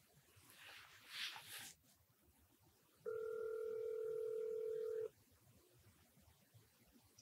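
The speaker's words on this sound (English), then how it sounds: "Let me make a phone call." Telephone dial tone holding steady for about two seconds after a brief rustle, quiet and close with no talking.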